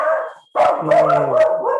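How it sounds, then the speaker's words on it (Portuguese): A dog barks loudly and close by in a home, a quick burst of several yelping barks with a short pause near the start. "Desculpa, aqui é cachorro, filho."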